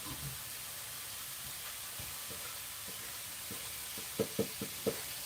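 An omelette for breakfast fries in a pan with a steady soft sizzle and hiss, and near the end a few sharp utensil taps knock against the pan.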